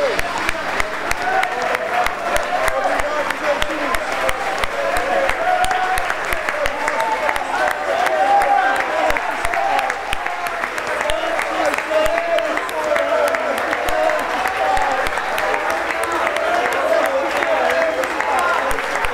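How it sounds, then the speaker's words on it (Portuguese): A church congregation claps loudly and steadily in worship, with voices audible beneath the dense, continuous applause. "Aplauda o Senhor, aplauda Ele bem forte, querido."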